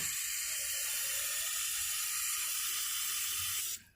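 Zinnia seedlings get a steady hissing spray of water before planting, close and even for several seconds before it cuts off.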